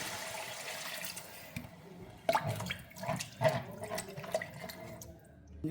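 Water is poured into a pot in a few splashing bursts, with gurgling and clinks, near and fairly loud.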